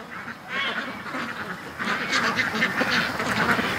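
Ducks quack and honk in a lively flock outdoors in the evening, a steady overlapping chorus of calls that grows louder and busier in the second half, close by.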